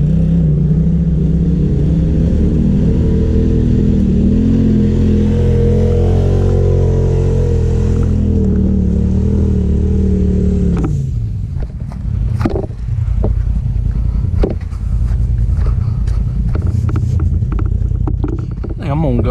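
Off-road vehicle engine roars loudly as it climbs over rocks, rising under heavy throttle, then dropping off sharply to a rougher idle with scattered knocks and scrapes; wind buffets throughout.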